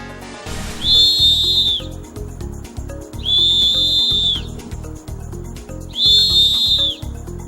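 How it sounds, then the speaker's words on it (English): A shrill whistle blown three times in long, steady blasts, loud and close, over a rumbling, thumping background. "you can blow that whistle and it can be heard from far away"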